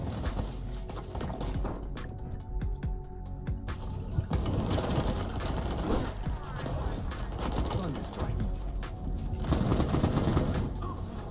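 AI enemies firing guns in the video game Battle Prime, rapid, steady gunfire crackling under a busy, dense game soundscape, with speech mixed in.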